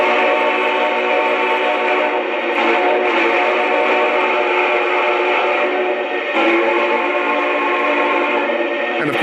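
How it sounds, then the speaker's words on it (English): A Lionel brass hybrid Challenger model train's steam whistle sounds continuously, a steady chord-like tone with slight wavers, fairly loud and close. "So let's check out the whistle."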